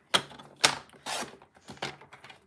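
Cardstock is sliced on a paper cutter in a few quiet, separate strokes, each a short scraping rasp of the blade, with gaps in between.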